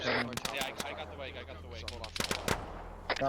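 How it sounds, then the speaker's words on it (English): Rapid automatic gunfire and single shots crackle in the military shooter Arma 3, in loud, uneven bursts with distant echoing reports, while a player talks over the combat. "Gunfire's where we are, so come join up."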